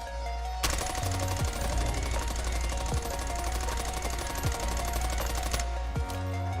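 Sustained automatic weapon fire in a video game with recoil left uncontrolled, a dense continuous burst of rapid shots lasting about five seconds, loud and close, then abruptly stopping.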